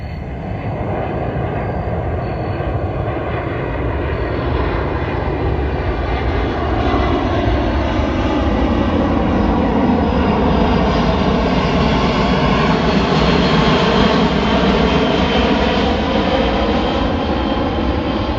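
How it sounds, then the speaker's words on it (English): A C-130 military transport plane flies over a campsite on an island, its loud, steady propeller drone filling the air and shifting gradually in pitch as it passes, with no voices. "We've had a plane flying over. I think it's a C-130 that's been flying over"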